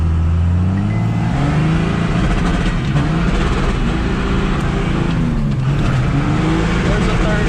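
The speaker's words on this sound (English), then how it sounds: "Let's do a good burnout real quick here" A 2nd gen Cummins diesel pickup truck does a burnout, its engine revving loud and close in repeated rising and falling surges over constant tire and exhaust roar.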